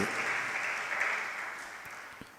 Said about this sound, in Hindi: वो आपने ताली क्यों बजाई